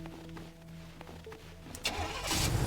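A car engine in the game Teardown cranks and catches near the end, following a quiet idle-like hum, then roars up loudly, close and with no talk.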